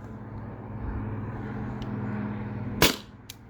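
A modded T4E TR50 CO2 marker firing a single sharp shot, close and loud, near the end of a low steady hum, followed by a fainter click.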